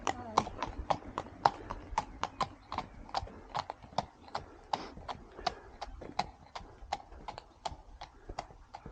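Steady clip-clop of a horse's hooves on a narrow country road, a brisk even rhythm of sharp close strikes carrying on for several seconds.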